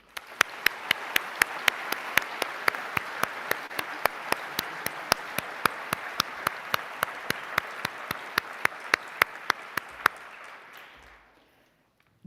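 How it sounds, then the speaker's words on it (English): Audience applause at a medical school white coat ceremony, a continuous hall-wide clapping wash punctuated by a few sharp regular claps, fading out to silence near the end. "Please join me in applauding this remarkable group."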